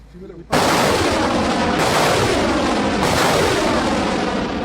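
Burkina Faso army artillery fires in a sudden heavy blast, with rolling booms and long echoing reverberation outdoors, loud and close after a brief quiet.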